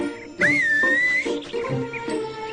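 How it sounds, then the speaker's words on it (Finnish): A person whistles a sliding, wavering tune, starting with a sharp rising note and then continuing in short melodic phrases, close and clear with no talk. "Minä se vihelsin."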